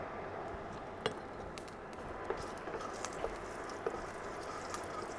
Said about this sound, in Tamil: இப்போ இந்த எண்ணெய் காயவும் கடுகை போட்டுருவோம். கடுகு லேசாக பொரிய ஆரம்பிக்கும்போது